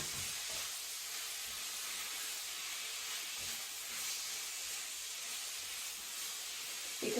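Carrots sauteing in ghee make a faint, continuous high hiss and sizzle with occasional soft low knocks, steady and unbroken with no voices.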